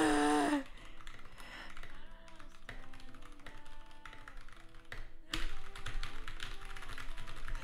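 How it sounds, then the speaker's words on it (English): Keys clack rapidly on a mechanical keyboard indoors in a studio, a steady run of close taps with a brief pause partway through. "Mechanical keyboards are so..."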